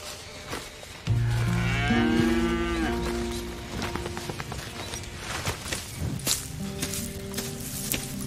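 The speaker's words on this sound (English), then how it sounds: "Here's the cows." Several loud, drawn-out cow moos close by in the video game Red Dead Redemption 2, one after another, over a soft background of shuffling and small movement noises.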